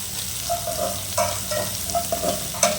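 Spices and dal for tempering crackle and sizzle in hot oil in a pan, a soft steady frying hiss broken by light scraping stirs and small pops.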